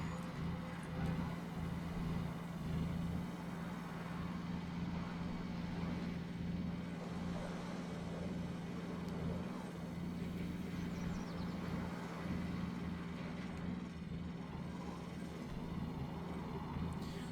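A player-built car in the Scrap Mechanic survival game drives steadily along, its engine giving a continuous low drone mixed with broad road-like rumble that holds the same loudness throughout.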